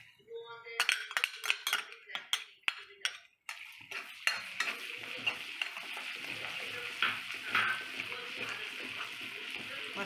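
Ginger-garlic paste sizzles steadily in a hot pan while a spoon scrapes and clinks against the metal, first in sharp taps, then under a continuous close frying hiss, during a Kashmiri shahi methi paneer preparation.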